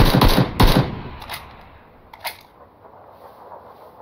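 Gunfire in PUBG, a quick burst of loud sharp shots at the start followed by a few fainter single cracks, with the rest fading to near quiet.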